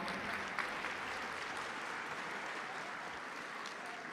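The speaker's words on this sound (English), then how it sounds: "Give a round of applause." Auction attendees in Detroit give a round of applause, a steady, even spread of many hands clapping heard from a distance at modest volume for about four seconds.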